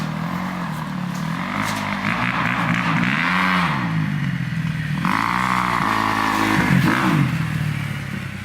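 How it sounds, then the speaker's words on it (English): A four-stroke motocross bike rides past with a low-pitched engine note that rises and falls through repeated revs and gear changes, loud and fairly close throughout. "this one's four stroke, low pitched sound"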